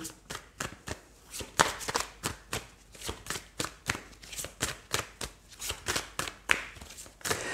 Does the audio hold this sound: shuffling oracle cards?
yes